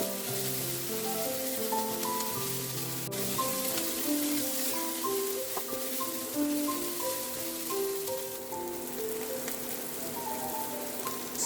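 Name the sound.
garlic and cabbage sizzling while stirred in a pan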